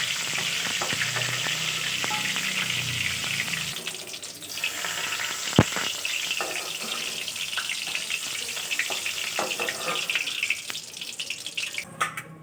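Pointed gourd frying in a pan with a steady broadband sizzle throughout, a brief sharp clink midway and faint clatter of stirring, no talk.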